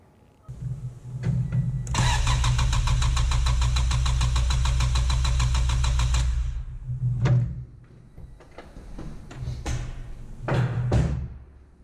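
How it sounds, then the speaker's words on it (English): A car's starter cranks the engine for about four seconds with the fuel injection fuse pulled, so it turns over without firing. The whirring is loud, steady and rhythmic, then stops, followed by a few scattered clunks. "we'll try and start the car and make sure that it doesn't actually fire"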